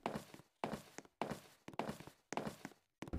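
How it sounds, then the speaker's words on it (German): Footsteps thud through a Roblox horror house, a short run of about five evenly spaced, fairly close steps separated by brief silences. "Was ist das für komische Geräusche, für Footsteps?"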